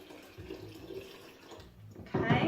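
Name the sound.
pouring tap water into a container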